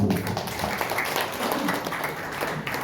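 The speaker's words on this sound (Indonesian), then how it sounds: "Tepuk tangan dulu." Church congregation applauding during a Sunday worship service, a brief burst of moderately faint, dense clapping from many hands in a room.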